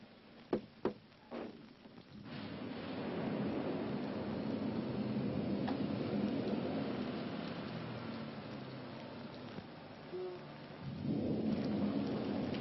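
A few sharp knocks at first, then a heavy rumble of thunder rolls in over steady rain, fading and swelling again near the end.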